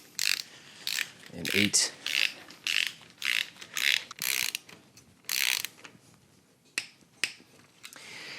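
A torque wrench snaps out a series of sharp, close clicks while LS engine rocker bolts are tightened to 22 foot-pounds during a garage camshaft swap, with a brief spoken word between them.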